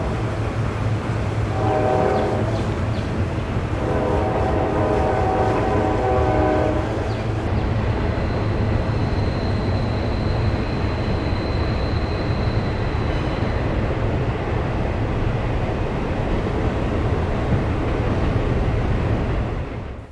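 CSX and NS freight train with heritage and foreign power locomotives rumbles loudly past the Potomac River Bridge, sounding two horn blasts early on over the constant heavy roar of rolling cars.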